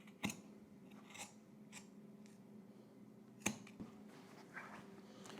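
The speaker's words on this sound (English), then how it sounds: "trim these seams down a little bit" Scissors trimming the seams of fabric for a Simplicity 3168 jacket and cape, a few quiet, separate snips spaced irregularly, close by with no talking.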